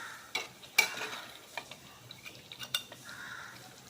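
Chettinad chicken gravy being stirred in a pan, soft scattered clinks and scrapes of a spoon against metal with a faint simmer underneath, quiet and close.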